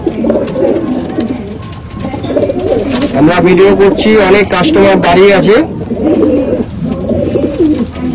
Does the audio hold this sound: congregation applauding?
no